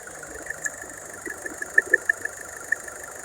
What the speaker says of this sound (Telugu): ఇంజన్ కూడా చూసుకున్నట్టయితే చాలా సైలెంట్ ఉందండి